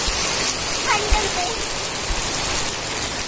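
Heavy rain pours steadily by the Markanda river, a dense, even hiss with occasional louder drop impacts, close and continuous throughout.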